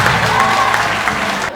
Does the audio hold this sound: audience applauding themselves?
yes